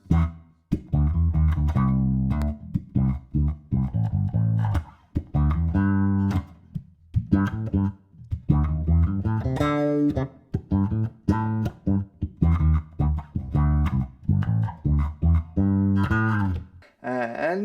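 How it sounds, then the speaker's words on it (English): Bass guitar run through an auto wah effect in Guitar Rig 6 plays punchy, choppy notes. The filter sweeps and quacks on each note, with short gaps between phrases. "So there's also some interesting auto wah kind of sounds."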